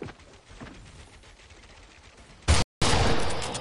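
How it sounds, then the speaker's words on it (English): Video game gunfire with several players shooting, a steady spatter of fairly quiet shots for about two and a half seconds, then a sudden loud burst, a cut to silence, and another loud sustained volley. "Oh, why are there 3 people shooting at me?"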